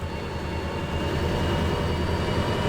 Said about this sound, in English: There is a long train going to pass us by here.